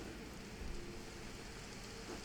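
Rain in Minecraft falls as a constant soft hiss at low level, steady and unbroken throughout, with no voice over it.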